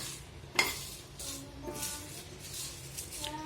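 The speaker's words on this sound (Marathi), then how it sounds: "लो फ्लेम गॅसवर आपल्याला हे ड्राय रोस्ट करून घ्यायचं" Coriander and cumin seeds dry roasting in a pan on a low gas flame, light metallic scraping and clinks of stirring with a sharp clink near the start and faint rustling sizzle, fairly quiet.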